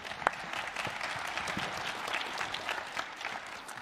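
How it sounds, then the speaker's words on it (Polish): Applause for fighters at a press conference, steady clapping from a crowd in a room, moderately loud and sustained with a few sharper claps standing out. "Dajmy im trochę brawo, panowie."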